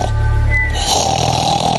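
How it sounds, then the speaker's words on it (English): Loud, close snoring fills the whole stretch, a continuous rough rasping breath with a low rumble, heard alone without speech, as in someone snoring through the night. "snore throughout the night"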